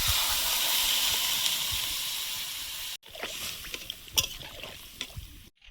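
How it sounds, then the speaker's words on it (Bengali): Water poured into a hot pan of frying rohu fish curry hisses in a steady, loud sizzle for about three seconds, then breaks off into softer bubbling and scattered crackles. "এবার ঝোলের জল দিয়ে দেবো।"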